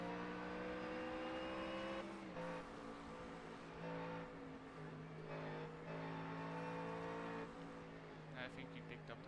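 V8 race car engine in iRacing at a 24-hour endurance race at Daytona, droning steadily and loudly with shifting pitch and faint tire noise as team radio voices talk over it.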